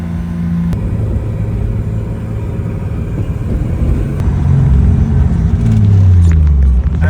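A BMW 135i with the N55 engine and a failed clutch drives along the road, its engine a steady close rumble with a rising drone near the end and no talk.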